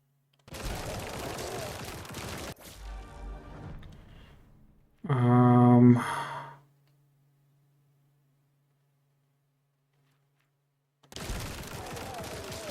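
Rapid bursts of gunfire from the video game Grind Survivors, loud and close. A burst in the opening seconds is followed by a brief sharp blast, then a long silence before the firing resumes near the end.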